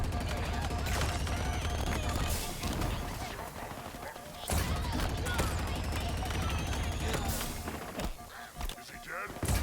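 Gunfire from a weapon in the shooter video game Halo Infinite, rapid bursts crackling loudly over a dense mix of game effects and a low rumble, with a talking voice over it.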